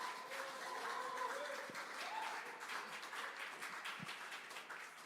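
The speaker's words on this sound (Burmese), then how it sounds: "အားလုံးမတ်တရက်ပြီးလက်ခုပ်တီးလက်ယေရှုနာမ၌ကြိုဆိုကြရအောင်" A church congregation claps their hands together in sustained applause. The clapping sounds steady and somewhat distant, and a few faint voices come through underneath.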